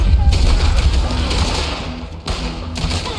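Gunfire in Red Dead Redemption 2 comes as a few sharp, booming shots over dense game noise and a low rumble, with someone talking at times.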